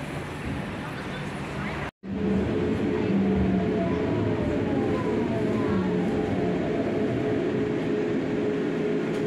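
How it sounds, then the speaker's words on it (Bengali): A tram runs toward Bonn, its steady rolling rumble and hum continuous and close throughout, with a brief dropout near the start and faint tonal squeals riding over the noise. "ট্রাম ছুটে চলেছে বন শহরের দিকে,"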